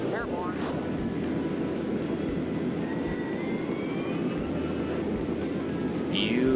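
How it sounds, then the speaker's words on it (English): Jet fighter taking off from an air base in the Fighters Anthology flight game, a steady loud engine roar with a faint rising whine, building slightly toward the end. "we are taking off from the air base"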